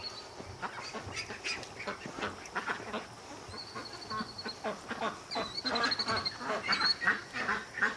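Ducks quack in a lively flock, with repeated close, overlapping calls that grow busier and louder toward the end.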